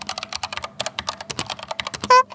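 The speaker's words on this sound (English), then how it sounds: "the brown mechanical switches sound awesome" Yunzii Acto retro typewriter-style mechanical keyboard with round keycaps and brown switches, typed on in a fast, steady run of close, crisp key clacks, ending with a brief bright ding-like tone.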